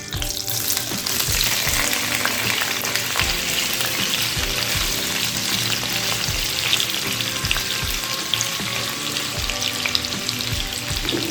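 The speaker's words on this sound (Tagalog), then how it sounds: "ipa-fry po natin itong tofu hanggang sa medyo light brown siya" Tofu frying in hot oil in a pan, a steady loud sizzle and crackle throughout with occasional scraping of a utensil stirring the pieces.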